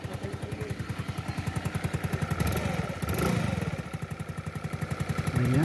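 Suzuki Skydrive 125 scooter engine running after repair, loud and noisy with a fast, steady rhythmic clatter close by, swelling slightly in the middle, no talk over it.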